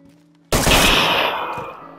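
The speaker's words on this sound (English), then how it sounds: "That's me shooting" Player's gun firing in the video game DayZ, a sudden loud burst of rapid automatic shots cutting in from near silence, then ringing and decaying over about a second.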